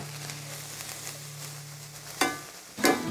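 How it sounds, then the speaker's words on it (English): Onion sizzles steadily in a hot oiled pan, a soft crackling hiss broken by two louder scraping bursts of stirring near the end. "Sizzle, hear that? Yep, my pan was ready."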